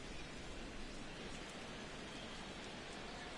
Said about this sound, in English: Man, just raining here.